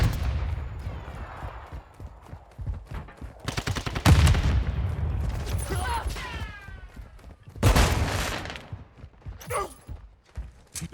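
Rapid automatic gunfire and bursts of shots in a Call of Duty: Modern Warfare 2 match, loud and close, with several sharp volleys between quieter stretches and game voice callouts over the shooting.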